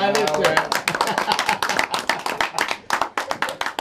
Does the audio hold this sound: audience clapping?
yes